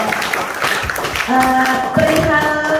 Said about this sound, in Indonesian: coba kita sama-sama kasih tepuk tangan yang luar biasa dulu